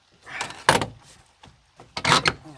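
Door card clips popping into the door of a Chevrolet Astro van, two or three sharp plastic snaps and thumps close by, with quieter rustling handling between them.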